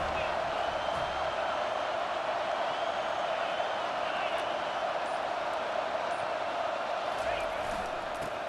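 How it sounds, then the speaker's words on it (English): A steady, dense roar of a stadium crowd cheering on third down in the College Football 25 video game, loud and unbroken throughout without any rise or fall. "Decibels rising as the crowd gets behind this defense on third down."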